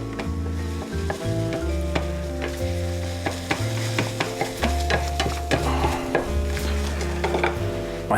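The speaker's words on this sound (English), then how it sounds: "Scrambling up some eggs." Eggs with cream scrambled in a frying pan, a utensil scraping and tapping repeatedly against the pan over a soft, steady sizzle, close and alone without talk.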